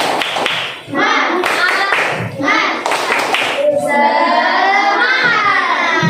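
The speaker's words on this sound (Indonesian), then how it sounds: "Tepuk semangat." Children in a classroom perform the rhythmic 'tepuk semangat' clapping chant, with sharp patterned claps mixed with their chanted voices, followed by a long sustained shout; loud and close, with a teacher's voice leading.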